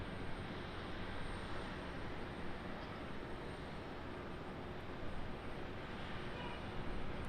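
An aircraft auxiliary power unit runs at an airport apron, a steady, continuous broadband whine and roar held at even loudness throughout, with no distinct changes or other events.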